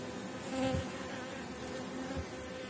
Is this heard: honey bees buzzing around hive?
yes